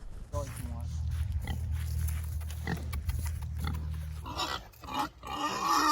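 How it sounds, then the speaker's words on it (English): A homestead pig being moved to a new pen grunts and snorts in short, low bursts close by, while people talk quietly in the background. "Pig's back in his pen."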